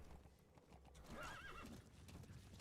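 A horse in Metal Gear Solid V trotting with muffled hoof clops, then a loud whinny rising over them midway, all fairly quiet against a low in-game background.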